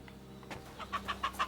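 Chickens in Kingdom Come: Deliverance II cluck in a rapid series of four or five short, bright calls, fairly close over a faint low ambient hum.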